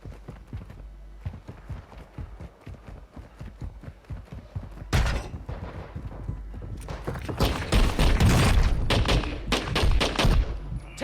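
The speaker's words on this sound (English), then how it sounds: "Taking effective fire!" Rapid gunfire rattles in Call of Duty Warzone 2.0 on Ashika Island, starting as a steady run of close shots, then swelling into dense, louder overlapping bursts and automatic fire, with a brief muffled game voice.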